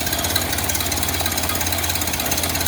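A 1931 Ford Model A engine idles fairly low after new points, condenser and plate wire were fitted, giving a steady close mechanical chugging with an even rhythmic knock and puff and no voices.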